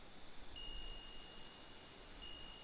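A looping cricket ambience from the video game Danganronpa chirps in a quick, regular trill, faint and steady with no other sound.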